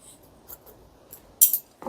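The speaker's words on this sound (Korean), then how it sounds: "가위가 아래쪽에 들어갑니다." Hair scissors make a few quick, crisp snips during a layered women's haircut at a hair academy, set against quiet rustling, with one sharper cut near the end and no talk.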